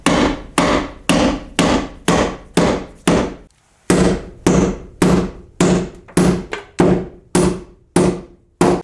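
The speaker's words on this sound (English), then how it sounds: "I'm just going to nail it in place." Hammer blows driving a nail into a stud inside a plaster wall during drywall repair, about fifteen sharp, loud, evenly spaced strikes in two runs with a short pause between them.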